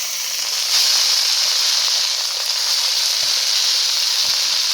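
Steady, loud sizzling and hissing as red amaranth greens hit hot oil with fried spices in a pan, a continuous close frying sound with a few soft knocks.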